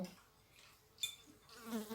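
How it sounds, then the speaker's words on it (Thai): Houseflies buzzing inside a home kitchen where pork rib and white cabbage soup has been cooking, a faint, steady, thin drone with no talking. "แมลงวันเข้ามาเยอะ"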